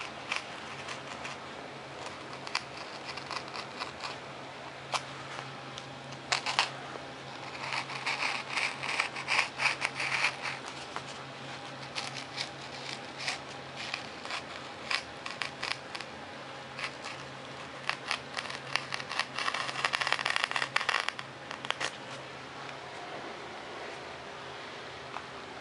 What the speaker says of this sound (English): Now I'll take my X-Acto knife and I'll finish up the rest of these all on the ends here.